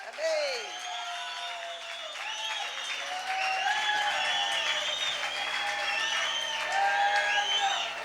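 A church congregation claps hands together during a Kannada Sunday sermon service, a sustained, dense applause that swells and continues throughout, with voices and whoops mixed into the crowd noise.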